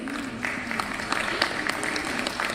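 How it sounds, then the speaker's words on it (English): An audience applauds at an awards ceremony during a green summit in Dubai. Steady mid-distance clapping runs throughout, with a voice audible underneath it. "Huge round of applause from the audience."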